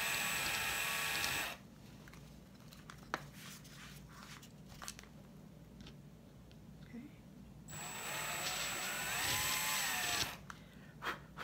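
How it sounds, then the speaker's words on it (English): An electric drill whirs in two loud bursts, one brief and one longer, boring into a dried apple gourd, with quiet handling noises and faint background hum in between. "I'm going to take my drill,"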